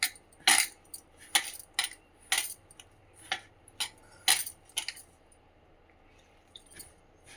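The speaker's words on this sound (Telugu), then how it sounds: "ఇట్లా కలుపుకోవాలి, కొంచెం లూజే కలుపుకోవాలండి." A spoon mixes gram flour bajji batter with ajwain in a bowl, giving a string of sharp, irregular clinks and taps against the bowl, close and fairly quiet, with short pauses between strokes and no talk.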